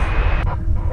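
An American Airlines Boeing 787-8 taking off at DFW Airport gives a steady, loud jet engine roar that fills the whole second with no pause.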